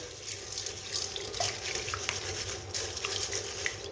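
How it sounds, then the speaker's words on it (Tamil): Tap water runs steadily into a sink as soaked lentils are rinsed for Tamil-style thavala vadai, a continuous close splashing gush with no voices. "இப்போ நம்ம நல்லா தண்ணி ஊற்றி 2-3 தடவை கழுவிட்டு கூட அதுக்கப்புறம் ஊற வைக்கலாம்."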